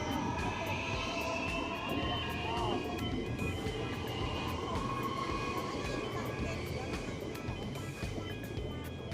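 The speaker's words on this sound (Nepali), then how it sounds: "अब यो ट्रेन जान्छ अनि त्यस पछाडि मात्र यो बाटो खुल्छ" Train passing a level crossing at a station in Melbourne, a steady rumble of rolling wheels with faint metallic squeals and a warning chime, heard close under light background voices.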